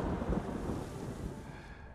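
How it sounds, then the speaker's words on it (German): Thunder rumbles through a storm in the video game Ghost of Tsushima, a low continuous roll that swells early and slowly fades over about two seconds, loud and close with no talking. "Da gewittert's."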